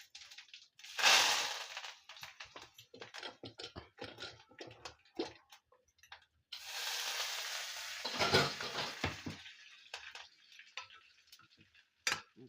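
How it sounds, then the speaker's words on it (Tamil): Mustard seeds, urad dal and curry leaves are tempered in hot oil in a pan, crackling and popping in bursts with loud sizzling surges as the leaves go in, close up and without talking. "இதில் வந்து கடுகு, உளுத்தம்பருப்பு, கருவேப்பிலை, கொஞ்சம் கருவேப்பிலை சேர்த்து நல்லா மண்ணாக இருக்கும்."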